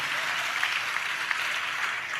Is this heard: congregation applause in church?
yes